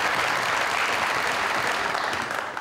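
Studio audience clapping for an arriving guest on a Pakistani TV talk show, a steady, loud wash of many hands lasting the whole moment and fading slightly at the end.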